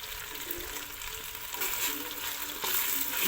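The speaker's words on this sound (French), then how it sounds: "je vais laisser dorer la viande un petit peu avant de rajouter mes oignons" Lamb meat sizzles and spits steadily in a pot as it browns, a soft continuous frying hiss with occasional stirring clinks, faint and close.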